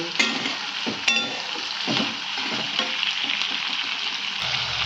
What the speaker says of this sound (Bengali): এই যে পেঁয়াজ আর গাজর ভাজা, ভেজ বিরিয়ানি করব